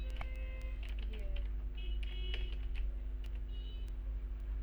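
Rapid keystrokes on a computer keyboard in a Microsoft Office application, a steady run of clicks with a few heavier key presses such as enter, over a constant low electrical hum and faint background voice.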